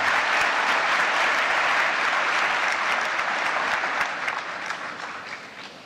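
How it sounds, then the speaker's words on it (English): A conference audience at the APEC 2024 CEO Summit gives sustained applause for Canada's Prime Minister Justin Trudeau, dense clapping from a large crowd that stays loud and then gradually thins out toward the end. "Ladies and gentlemen, a round of applause for the Prime Minister of Canada."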